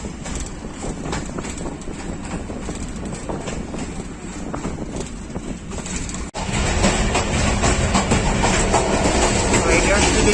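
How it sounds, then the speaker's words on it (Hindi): A Thall Express train of Pakistan Railways rolls slowly through a station it does not stop at, giving a continuous rumbling rail noise with rhythmic clatter that swells louder partway through, heard from on board. "स्लो स्पीड में डोमेल स्किप कर रही है ट्रेन।"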